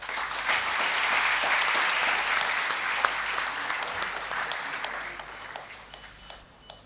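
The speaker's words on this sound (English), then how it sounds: "Let's give him a warm round of applause for Mir." A seated audience at a felicitation ceremony claps in a warm, dense round of applause that swells and then gradually thins and fades.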